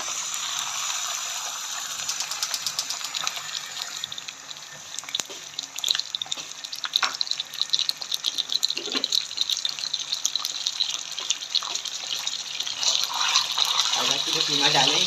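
Half a kilo of minced meat hisses and sizzles steadily as it is added to a pan of hot oil, a bright crackling frying sound under a person talking throughout.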